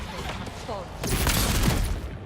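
Gunfire bursts in the fantasy video game Avowed, a dense rattling volley swelling loudly in the second half under game noise, with a player's voice talking over the action.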